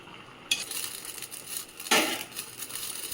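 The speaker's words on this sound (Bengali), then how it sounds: "ভেজে রাখা মাছগুলো দিয়ে দেব।" Fried shing fish tipped into a pot of cooking potatoes and stirred: a sudden clatter and scrape of utensil against the pan, a second louder clank midway, with low sizzling and stirring noise throughout.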